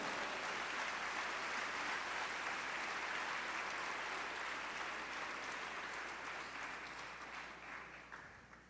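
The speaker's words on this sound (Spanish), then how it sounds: "Yo daría un aplauso." Audience at a church service breaking into applause, a broad, even clapping that gradually fades toward the end, heard at fairly low level.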